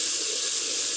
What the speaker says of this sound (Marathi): तुम्ही बघू शकता फोडणीचा आवाज लेवल आलाय